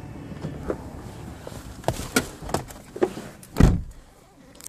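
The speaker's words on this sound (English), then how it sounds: "So there's the power windows" Inside a 2008 Scion tC, power windows and switches are worked, giving a run of close mechanical clicks and short motor bursts that end in a heavier thud.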